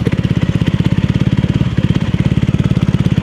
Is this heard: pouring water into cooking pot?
no